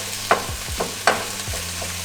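Taco filling with tofu gets stirred in a frying pan, a handful of distinct scraping strokes of the utensil over a soft background sizzle, close and fairly loud.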